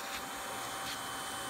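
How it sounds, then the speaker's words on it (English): A vacuum cleaner sucks up scraped debris from a rotted composite-wood countertop, a steady faint airy whoosh with no voices. "here to suck it away with the vacuum cleaner"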